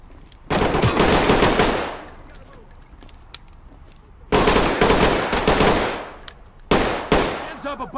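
Bursts of M4 rifle fire in the tactical shooter Ready or Not, three loud automatic volleys of rapid shots separated by short pauses, each burst trailing off into echoing reverb.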